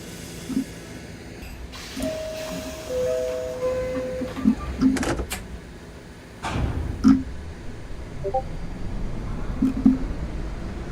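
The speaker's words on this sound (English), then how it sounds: "Mind the closing doors," Simulated NYC Subway R68 train doors close in the OpenBVE game with clunks and thumps, a brief two-note chime, and scattered mechanical knocks over a low rolling hum.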